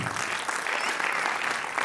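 Parents in an audience applaud students at a music academy's annual day, a short, continuous burst of dense clapping at moderate loudness with no voices over it.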